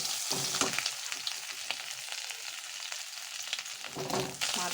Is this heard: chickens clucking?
no